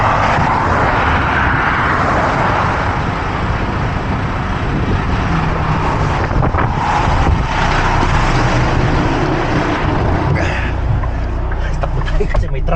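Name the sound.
truck passing on the road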